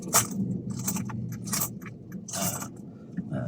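Coins clink and scrape as they are handled and counted, in short bursts of metallic jingling over a constant low background hum.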